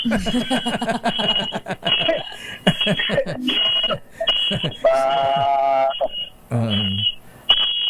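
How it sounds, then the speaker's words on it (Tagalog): An electronic alarm beeps in repeated high, steady bursts, loud and close, with people talking over and between the tones. "May nag-a-alarm"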